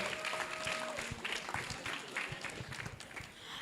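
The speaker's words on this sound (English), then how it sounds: "Let's give a round of applause for that group again" Applause from an EdTech summit audience for a group of children who just performed, soft and fairly distant, a continuous patter of clapping with a voice faintly underneath.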